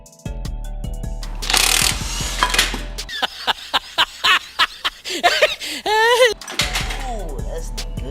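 A power tool loosens the flywheel on a Honda D16 engine during a turbo build and clutch swap, loud close rattling bursts giving way to a string of rapid, evenly spaced hammering pulses, with brief voices and a chuckle near the end.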